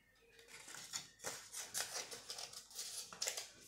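Scissors cutting folded paper for a box craft, a steady run of soft, close snips and crisp paper rustle repeating every half second or so, with no one talking.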